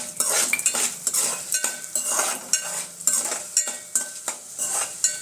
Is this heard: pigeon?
no